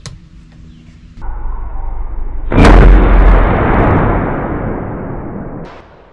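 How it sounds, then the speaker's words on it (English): Tikka T3x rifle firing 150-grain custom hand loads at a 50-yard target: one loud, sharp close shot followed by a long rolling echo that slowly fades, with softer sounds before it. "Fire 3 rounds at the 50."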